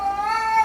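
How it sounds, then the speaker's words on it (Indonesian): A fierce, bad-tempered cat meows while being given a bath, one sustained, close, loud and strained meow. "Kalau kamu mau mandiin kucing yang agak galak kayak Enyo"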